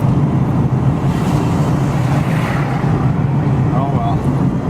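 A car with a failing, badly slipping automatic transmission drives along, its steady engine drone and road and wind rumble loud and continuous inside the cabin, without any talk.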